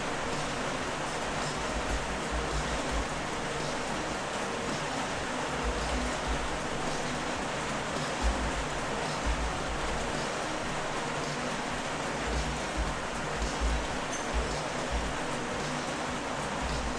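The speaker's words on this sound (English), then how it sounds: "It's rain." Steady rain pours onto a roof in a continuous, even hiss with low rumbling texture, holding at a constant level throughout with no breaks.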